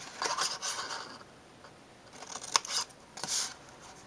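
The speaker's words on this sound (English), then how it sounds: "we're going to cut these boxes off because we don't need them" Scissors snip cardstock box tabs close by in a few short, crisp cutting strokes with quiet pauses between them.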